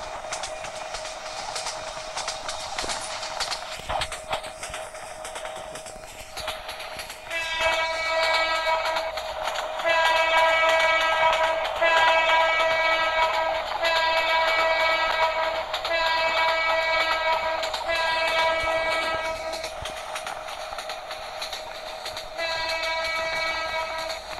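Simulated Bangladeshi express train, Subarna Express, running at high speed in a train simulator game, with a steady loud rumble and a long sustained horn blast sounding in repeated stretches over the running noise.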